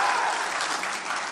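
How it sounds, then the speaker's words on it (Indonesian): Steady audience applause at the Aceh gubernatorial candidates' debate for Pilkada 2024, a dense even wash of clapping that holds without pause for its full length. "Mari kita berikan tepuk tangan untuk seluruh pasangan calon"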